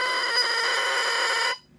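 A reed crowing as it is adjusted gives a steady, buzzy, bright tone held for about a second and a half, then cut off sharply into silence.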